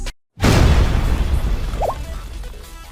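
Explosion from a trap going off in the Blue Archive game, a sudden loud boom after a brief silence that rolls into a long, fading rumble with debris-like crackle.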